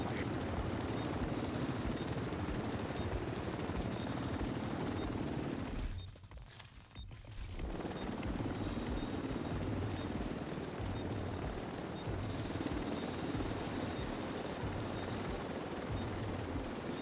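A helicopter in the video game The Division 2 gives a loud, continuous rotor drone that fills the whole clip, briefly dipping for a moment in the middle before resuming at full strength.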